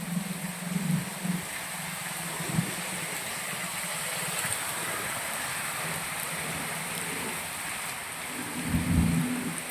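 Steady rain falling outdoors, a continuous wash of hiss with occasional low rumbles from nearby traffic or distant thunder.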